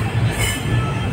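Inside a moving passenger train, a steady low rumble of wheels on track fills the carriage, with faint squealing overtones and no speech.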